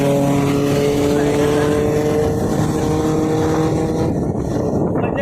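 A loud, continuous road roar and engine drone fill a busy weekend highway heading to Lonavala, with steady tonal hum and no clear pauses.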